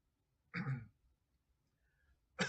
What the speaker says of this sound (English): I wanted to cough the whole time I was explaining that one